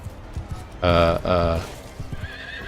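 In the castle-siege video game The Mercenary, a horse gives two loud neighs in quick succession. Soft hoof clops sound before and after the whinnies.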